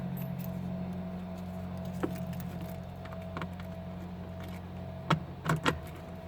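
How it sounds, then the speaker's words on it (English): Metallic key clicks and jangles near the end as a key goes into the ignition of a BlackShape Prime light aircraft, a few sharp close taps over a steady low cabin hum. "Keys in the ignition."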